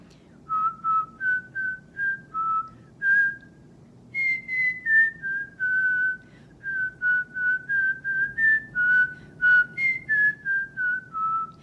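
A clear, close whistled melody in short detached notes at a steady rhythm, with a few brief pauses between phrases, alone without talk.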